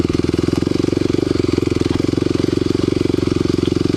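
Kawasaki KLX250sf dual-sport motorcycle engine pulls under light throttle, a loud, close, rapid steady thumping pulse held evenly throughout with no voices.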